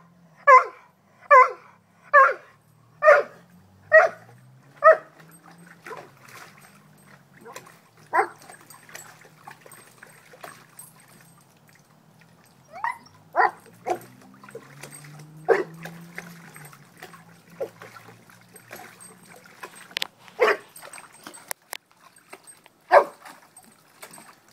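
A Dobermann barks in a quick run of loud, evenly spaced barks, then splashes and snaps at water with scattered yips and whimpers, close by with some light background noise.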